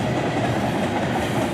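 A northbound CSX freight train led by locomotives 7771 and 4569 rolls past close by near a North Court Street crossing north of Circleville. It makes a loud, steady rumble with rhythmic clickety-clack of wheels on rail joints.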